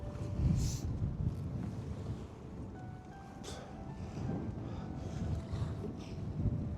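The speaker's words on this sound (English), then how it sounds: "As you can see, it's a bit windy today." Wind buffets the microphone in low, uneven gusts on a Norwegian fjord during lobster fishing, with faint water and boat sounds in the background.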